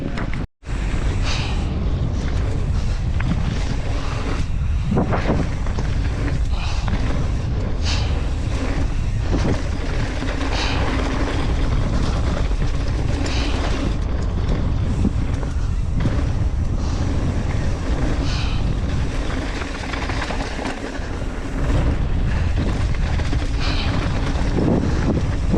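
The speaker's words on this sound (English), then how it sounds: "The wind was kind of pushing me." Strong wind roars across the microphone in a continuous heavy rumble with gusty swells, and a voice speaks briefly beneath it.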